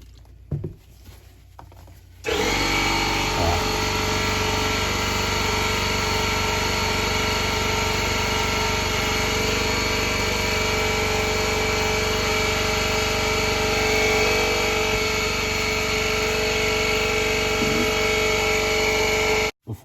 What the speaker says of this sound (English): before my air compressor so rudely kicked in, sorry about that